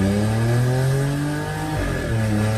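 A remapped VW Polo TSI engine running on gasoline, making about 125 wheel horsepower, revs hard with a loud rising drone that drops sharply on a shift before climbing again, heard close up with no talking.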